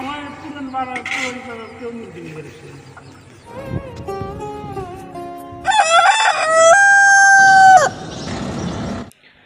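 A rooster crows loudly and nearby chickens cluck in a home courtyard, with repeated close calls rising to a long strong crow near the end.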